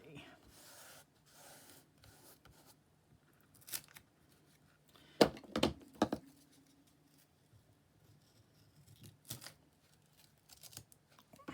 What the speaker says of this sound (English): I'm just going to trim it as I go this time.